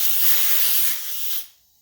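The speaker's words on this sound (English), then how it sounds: "I've blown it off with the air compressor, so it's, relatively dust-free." Air compressor nozzle blows dust off a sanded tree cookie, a loud, close hissing blast that holds for over a second, drops slightly, then cuts off into quiet.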